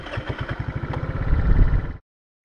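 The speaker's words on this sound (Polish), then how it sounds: "normalnie skuter powinien kręcić w ten sposób" 4T 139QMB scooter engine cranking on its electric starter, a rapid rhythmic chugging that runs steadily and loud for about two seconds, then cuts off abruptly into silence.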